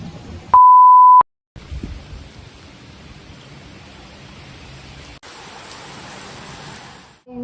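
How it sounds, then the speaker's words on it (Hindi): Heavy rain falls outdoors as a steady, soft broadband hiss. It follows a short, sharp electronic beep at the start and grows slightly brighter toward the end. "बारिश हो रही है इतनी ज़्यादा और मैं पूरी भीग चुकी हूँ"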